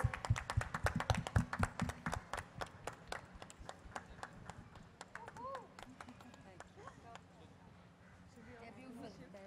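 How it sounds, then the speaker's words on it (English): Audience clapping for two cast members called onto a stage at a Hindi film trailer launch for 3 Storeys: a burst of sharp, close claps in the first few seconds, thinning out, with a voice talking over it. "Can we please clap for them, guys?"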